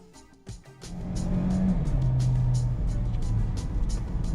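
A 2006 Mitsubishi Pajero Mini's small engine drones at high revs while driving on a motorway, a steady close hum that builds and holds with some road noise.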